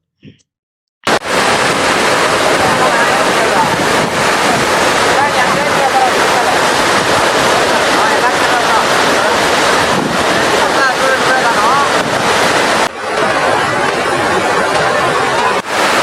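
Athirappilly waterfall roaring, a dense unbroken rush of falling water heard loud and close after a brief quiet start, with a short dip near the end.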